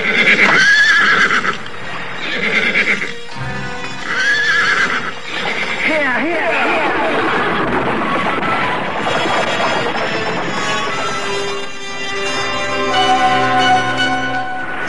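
Horses whinny loudly in a sound effect, with repeated high neighs up front and hooves clip-clopping and galloping through the middle, someone narrating in Indonesian over parts of it.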